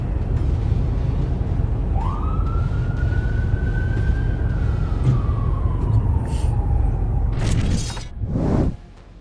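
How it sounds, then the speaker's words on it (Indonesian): A fire truck siren rises into a long sustained wail and slowly falls over continuous loud traffic rumble on a street, ending in a couple of sharp bursts. "Meski sirine sudah dibunyikan keras"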